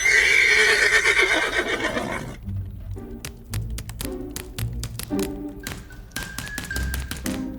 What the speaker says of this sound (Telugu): గుర్రం మీద వెళ్తున్నారా?